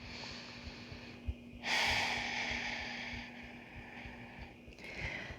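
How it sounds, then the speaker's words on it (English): Steady breathing during a beginner full-body yoga practice, one long audible exhale rising at the start and fading slowly, with a softer breath near the end over a low background hum; no speech. "Breathing."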